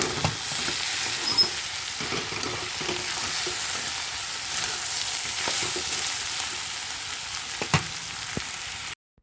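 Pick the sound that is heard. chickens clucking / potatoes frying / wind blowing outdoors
potatoes frying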